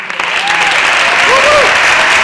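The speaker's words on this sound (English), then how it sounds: "I think we should do one more round of applause to say thank you for" Dense applause fills a retirement reception room, a steady close wash of many hands clapping that swells slightly and holds for the whole stretch.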